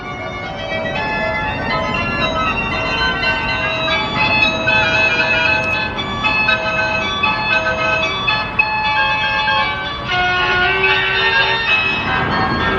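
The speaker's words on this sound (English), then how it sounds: "Merry-go-round." Carousel music plays loud and steady at the South of the Border amusement area, with bright tuneful organ or bell-like tones running continuously throughout.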